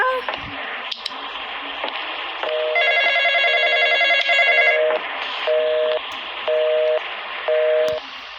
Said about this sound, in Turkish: Allah telefon arıyor.